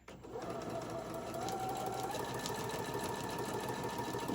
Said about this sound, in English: I'm just going to sew right across until I get to the end